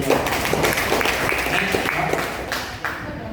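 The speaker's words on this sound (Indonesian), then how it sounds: "Aplaus dulu buat Bapak Ibu" An indoor audience at a product presentation in Lamongan breaks into a short, dense round of applause, with a voice talking over the clapping throughout.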